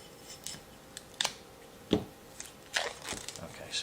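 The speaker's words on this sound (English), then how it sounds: "Let me get my little Leatherman out to make getting this plastic off a lot easier." A small Leatherman multi-tool cuts plastic packaging away from a sharpening stone set, giving a few sharp, scattered snips and crinkly crunches up close with quiet gaps between them.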